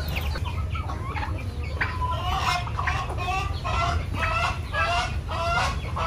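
A flock of domestic turkeys calls continuously, overlapping gobbles and clucks repeating throughout over a steady low background rumble.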